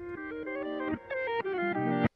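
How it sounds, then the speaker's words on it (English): A short guitar phrase played backwards, notes swelling in and cutting off abruptly, ending in a sharp reversed attack; no voices. "I found this really nice guitar loop, I reversed it"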